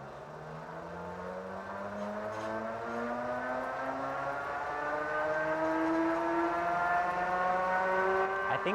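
A 1000 watt ebike motor pulls away in third gear with a steady rising whine, the pitch climbing smoothly and continuously over several seconds, loud and close with no talk.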